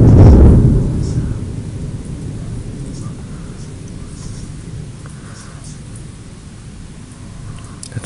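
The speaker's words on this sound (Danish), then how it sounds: "der er virkelig knald i himmel" Thunder during a thunderstorm: a heavy low boom at the start fading into a long, deep rumble that slowly dies away, with no talk over it.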